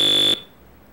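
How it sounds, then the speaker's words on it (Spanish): A single loud, shrill electronic beep from the 1980s World Cup Carnival video game, a steady tone lasting about a third of a second before cutting off abruptly into near silence. "ya me estoy estresando con tanto pitido de mierda"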